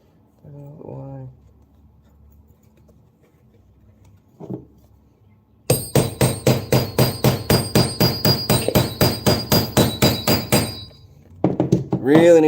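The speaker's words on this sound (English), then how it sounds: "Really need a good surface to rivet on" Rivets on the webbing of a WWII M1 helmet are struck with a hammer and rivet tool in a rapid, steady run of close, sharp metallic blows lasting several seconds, after scattered taps and followed by a person talking.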